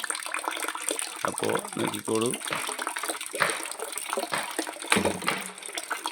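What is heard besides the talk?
water flowing into tank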